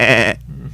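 A voice imitates a goat bleating with one short, nasal, quavering cry, loud and close, ending abruptly into quiet room tone.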